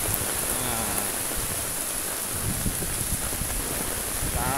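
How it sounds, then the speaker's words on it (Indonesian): Heavy rain falling in a steady dense hiss, loud and close throughout, with drops drumming on surfaces and no talk. "Nah, cukup deras sekali hujannya."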